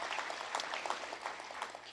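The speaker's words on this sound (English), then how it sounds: "let's give them a round of applause" Steady applause from a crowd, dense clapping filling the whole moment at moderate distance, with no voices on top.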